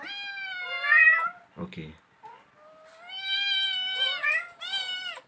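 Five small kittens meow in high, drawn-out cries, some overlapping, close by, with a brief rustle and a short spoken word between calls.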